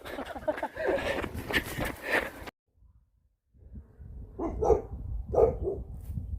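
Outdoors on a cherry-blossom road during a running workout, a dog barks twice after a brief hush, fairly near, with background bustle and movement around it.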